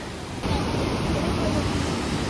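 River water rushes steadily at a rocky river crossing on a trail, a dense, continuous roar that swells a little louder after the first half-second and then holds without a break.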